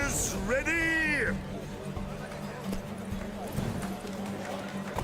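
Horses clip-clopping at the start of a race in The Witcher 3, with a horse whinnying loudly early on, then steady hoofbeats over a busy background while a voice speaks.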